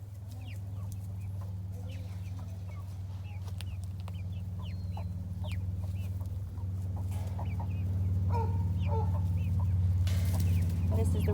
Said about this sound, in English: And these are our newest ones that you haven't seen yet, the speckled Sussex.